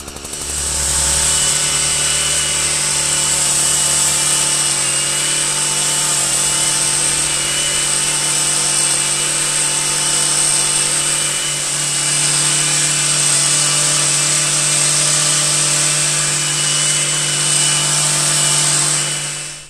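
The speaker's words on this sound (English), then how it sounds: "I think my edge trimmer's on his way out." A powered edge trimmer buzzes continuously while cutting shrubs, a steady loud high-pitched motor whine with sawing blade noise, close and uninterrupted.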